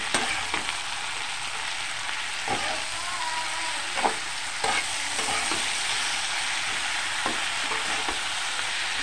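Salted vegetables are stirred with spices in a frying pan, a steady bright sizzle close to the listener with scattered spatula scrapes and knocks, and nobody speaking.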